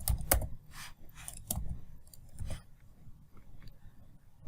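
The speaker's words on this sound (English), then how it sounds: "Here, type database server name." Fingers type a database server name on a computer keyboard, giving a close, quick run of light key clicks with a few louder taps at the start.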